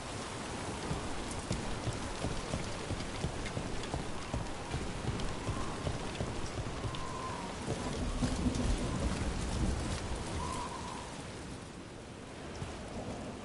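Heavy rain falls continuously in a thunderstorm, with deep thunder rumbling low and swelling midway; the downpour stays dense and even, with no one talking.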